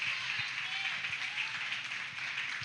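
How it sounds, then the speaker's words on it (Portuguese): A church congregation applauding during a sermon, a steady wash of clapping held at moderate level throughout with faint low thumps underneath. "Aplauda Jesus mais forte"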